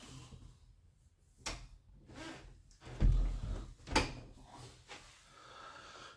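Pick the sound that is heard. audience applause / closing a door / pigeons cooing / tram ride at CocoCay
closing a door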